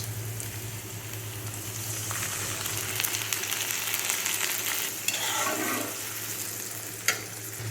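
Prawns sizzle and fry steadily in a hot pan for a curry with greens, a continuous bright crackle with occasional stirring scrapes and a low steady hum beneath, no talking.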